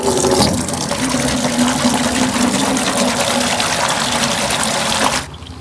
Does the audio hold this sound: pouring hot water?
yes